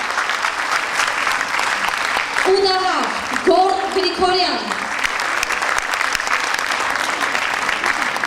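An audience at a concert of an ashugh ensemble applauds steadily and continuously as musicians are welcomed, while a presenter's amplified voice announces names over the clapping.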